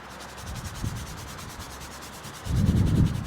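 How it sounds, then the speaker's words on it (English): A soft bristled detailing brush scrubs leather upholstery, a low, even rubbing swish that swells louder toward the end, heard alone without talk. "it can be worked into the grain of the coating every once in a while with a soft bristled detailing brush to lift out any deeper dirt"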